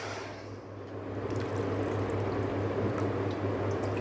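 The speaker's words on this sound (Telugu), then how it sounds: "మందపాటి గిన్నె పెట్టేసుకొని దీనిలో 5 కప్స్ తీసుకోవాలి వాటరు" Water poured steadily into a thick-bottomed pot for cooking sabudana papad, a continuous close splashing stream with a low steady hum underneath and no talking.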